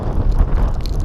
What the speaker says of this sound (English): The clouds moved in, it's got really windy.